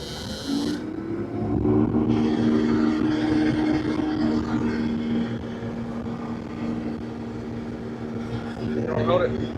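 A combine harvester's engine revs up in a corn field at harvest, with the separator and corn head engaged. It gives a loud, steady droning hum with a rising tonal whine and broad mechanical rumble, and voices are faintly present underneath.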